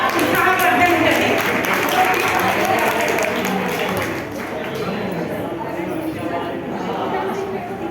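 An audience claps for three little girls dancing at a Jain play performance, a steady, dense patter of many hands that eases slightly midway, with crowd chatter mixed in.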